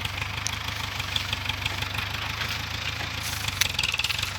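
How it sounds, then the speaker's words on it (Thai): A six-wheel truck loaded high with about 12 to 13 tons of sugarcane sits with its diesel engine running, a close, steady idling rumble with a faint knocking pulse and no talk. "ดูหกล้อใส่อ้อยกันนะคะ"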